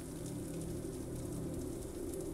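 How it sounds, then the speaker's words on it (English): Steady rain falls around an old Scottish castle, a soft, even hiss with no breaks or single drops standing out, quiet and continuous throughout. "listening to how different the rain sounds in various wings"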